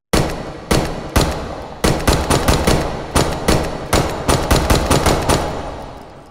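CZ75 Shadow pistol firing in the VR shooter H3VR, a rapid series of loud, sharp gunshots, about fifteen in quick succession with brief gaps, each crack trailing into a short ringing decay.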